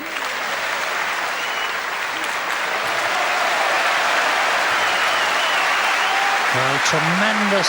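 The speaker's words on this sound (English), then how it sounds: "tremendous applause from the audience" Loud, sustained applause from a snooker match crowd after a maximum 147 break at the 1984 Masters, a dense continuous roar of clapping with a commentator starting to speak over it near the end.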